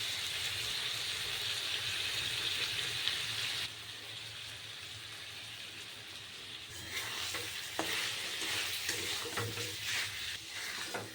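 Masala stir-fried in oil for a paneer and papad curry, a loud continuous sizzle with steady scraping stirs that grows briefly quieter before picking up again.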